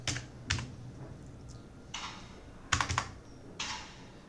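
Typing on a computer keyboard: several short, crisp bursts of keystrokes separated by brief pauses, close and clear with no talking.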